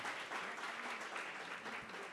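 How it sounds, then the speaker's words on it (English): A small workshop audience at a business talk breaks into applause, a steady wash of many hands clapping together, moderately loud and sustained with no voices over it. "feel free to clap"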